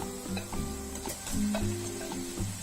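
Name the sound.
sausage and pepper frying and being stirred in a pan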